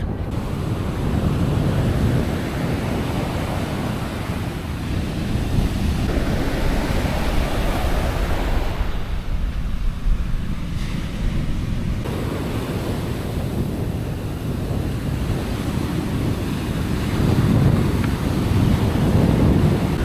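Ocean waves crashing on the beach at San Jose del Cabo, where high surf and strong currents roll in: loud continuous surging roar with rising and falling swells, heavy wind buffeting the microphone.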